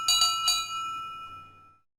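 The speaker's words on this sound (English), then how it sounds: "Toby's bell is broken." Toby the engine's bell in a Thomas and Friends game gives two quick, bright metallic dings that ring on and fade away over about a second and a half.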